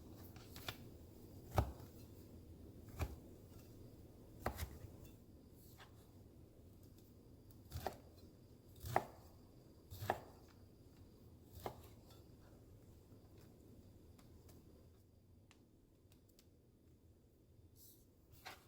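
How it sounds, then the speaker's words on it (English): A knife slicing four corn tortillas into squares on a cutting board in a home kitchen, heard as about ten sharp, separate chops spaced irregularly over a quiet background. "I'm going to take 4 corn tortillas and I'm going to cut them into squares."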